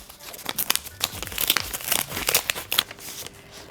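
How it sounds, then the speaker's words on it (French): A paper envelope is torn open by hand, with close, loud crinkling and ripping bursts running throughout and no talking. "Allez c'est parti, j'ouvre mon enveloppe."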